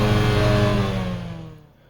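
A loud car engine revving hard through an open exhaust with no muffler, a close, sustained roar that fades out over the final moments.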